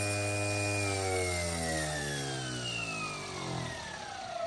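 A small engine in a 16-year-old Vario MD-500E RC helicopter runs with a droning hum that steadily drops in pitch as it slows toward a low idle, heard close and without talk.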